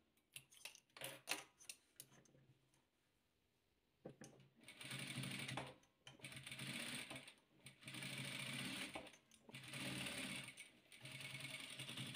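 A sewing machine stitches together red and yellow patchwork squares, its busy mechanical whir running in several bursts with short pauses between them, preceded by a stretch of clicking and handling.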